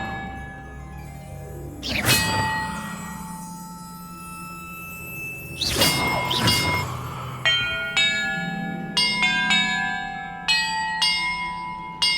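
In Hogwarts Legacy, a set of bells is struck in sequence. A few heavy clanging hits come first, followed by quicker bright chimes that ring on and layer over one another, loud and without speech.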